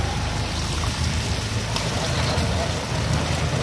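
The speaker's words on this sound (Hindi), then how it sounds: "जोरदार बारिश सुजानगढ़ में आज हुई" Heavy rain pours steadily during a storm in Sujangarh, a continuous dense hiss of water striking surfaces with a low rumble beneath, loud and unbroken throughout.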